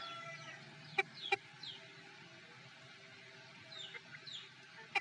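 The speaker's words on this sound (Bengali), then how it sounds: "এটা আমাদের সাদা মোরগ," A white rooster and chickens on a farm, a few sharp clucks and calls standing out over a quiet rural background, with soft chatter from distant birds.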